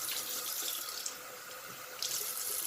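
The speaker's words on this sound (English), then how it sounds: "We got the water flowing." Water runs steadily from a tap into a water flosser tank, a continuous bright splashing hiss with a brief surge near the end, close by and alone.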